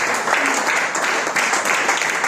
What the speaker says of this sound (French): Si tu crois, applaudis encore très fort pour la gloire de Dieu